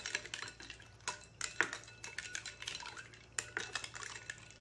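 A metal spoon stirs Rooh Afza rose syrup into sharbat, clinking and scraping against the glass in quick, uneven taps, close and clear with no talking.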